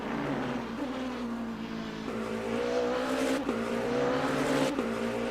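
A Porsche hypercar in the Le Mans Ultimate racing game at Circuit of the Americas, heard from outside as a steady loud engine drone, with pitch climbing through the gears and brief dips at each shift.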